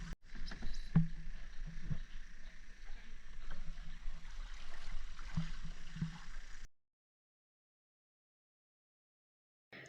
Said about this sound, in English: I couldn't not take one of the canoes and go out for a little paddle